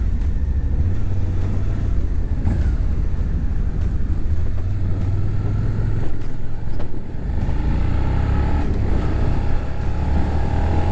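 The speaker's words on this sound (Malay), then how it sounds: "Bunyi V-Twin yang sangat-sangat ikonik pada" A 2021 Suzuki SV650 V-twin motorcycle engine runs loud and close, giving a steady, deep, throbbing rumble that holds for several seconds without interruption.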